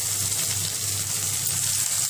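Tomatoes sizzling in hot oil with sautéed garlic and a pinch of turmeric for palak paneer, a steady close hiss and crackle of frying that stays even and continuous throughout.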